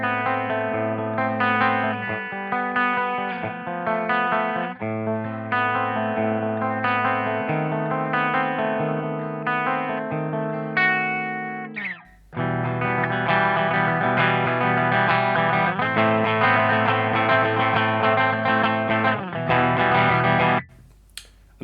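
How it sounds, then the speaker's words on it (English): A Jackson Soloist electric guitar plays a clean, dry tone on the bridge pickup through an ENGL E530 preamp and Peavey 6505 power amp, with chords and notes ringing over about twenty seconds and a brief pause in the middle. "So this is just a clean sound without any reverb or anything."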